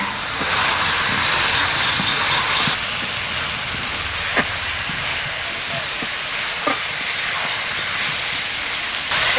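Fried elephant foot yam goes into meat already cooking in a pan, giving a steady loud sizzle with occasional sharp clinks and scrapes of stirring as it fries, with no talk.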